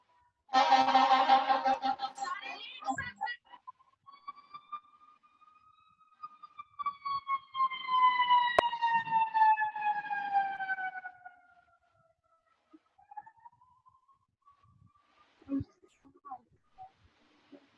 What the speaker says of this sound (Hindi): वो एम्बुलेंस था. वो फायर ब्रिगेड था.